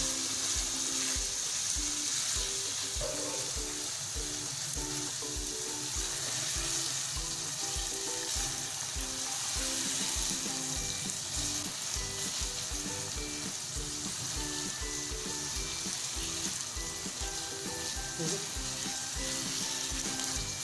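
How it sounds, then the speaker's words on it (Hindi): Minced meat with ginger and garlic fries in a pan for Pakistani aloo keema, giving a loud, dense, continuous sizzle. Faint stirring scrapes run through it, and no one speaks. "कीमे को और अदरक लहसुन को हम इतना फ्राई करना है कि कीमे का जो पानी है वो अच्छे से ड्राई हो जाए"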